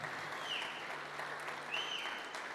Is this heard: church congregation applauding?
yes